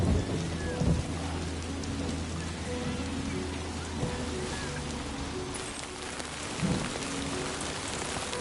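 Rain falling steadily on a surface with deep rumbles of thunder rolling through a storm, continuous and fairly close, with no talk over it.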